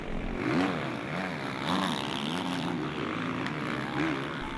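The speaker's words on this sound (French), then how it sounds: "Potisek, Isoard, Martin et Valentin Tellier qui met gaz en grand pour recoller au leader" Motocross bikes racing at an elite-level event in Sommières, engines held wide open at full throttle, a continuous loud droning roar with rising and falling pitch sweeps as riders accelerate.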